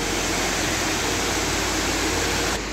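A waterfall at a large dam near Užice, Serbia, roars as a dense, continuous rush of falling water, loud and steady from start to finish with no voices.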